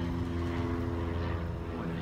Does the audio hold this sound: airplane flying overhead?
yes